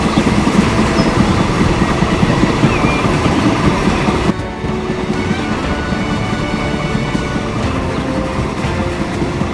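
Train in the video game Transport Fever 2 rumbling along the railroad with a steady roar and clickety-clack, loud and continuous, easing slightly partway through.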